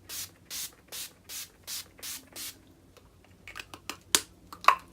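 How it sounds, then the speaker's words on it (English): Urban Decay All Nighter setting spray misted from a pump bottle, about eight quick evenly spaced hissing sprays up close, followed by a few soft clicks and taps. "And now I'm gonna lock it in. Urban Decay All Nighter."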